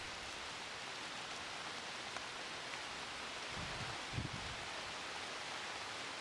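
Steady rain falls on a very rainy morning, heard as a continuous soft broadband hiss with a couple of faint low thumps near the end, no voices.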